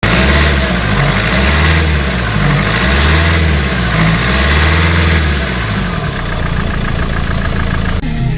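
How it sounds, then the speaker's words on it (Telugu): A Mahindra XUV500 SUV engine idles steadily with a low, rhythmic throb and a slightly uneven cycle, loud and close, no voices. "అందుకనే మీకోసం ఇంజన్ సౌండ్ కూడా లాస్ట్కు ప్లే చేస్తా"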